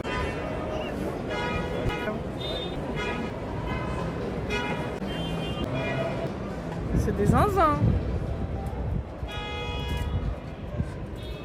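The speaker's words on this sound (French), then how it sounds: "Les gens abusent du klaxon." Car horns honking repeatedly amid a noisy crowd at an auto show in Lyon, several short and long toots from different vehicles, with people talking nearby.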